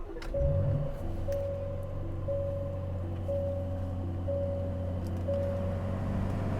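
Aston Martin DB12 engine starting up, with a short rumble at ignition that settles into a steady low idle hum, accompanied by a repeating electronic chime.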